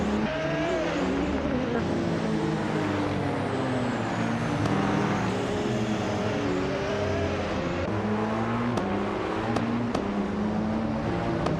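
Race cars, including an Audi R18 e-tron Quattro prototype, roar continuously in a racing video game, engines droning and shifting pitch as they lap a track close together, with brief clicks near the end.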